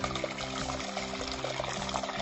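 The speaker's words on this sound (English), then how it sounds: "We will cover that with water, because that's going to cover our meat to cook the corned beef." Water poured over corned beef in a thermal cooking pot, a steady continuous splashing flow at close range with no talking.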